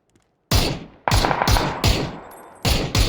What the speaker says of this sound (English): Gunshots are heard from the east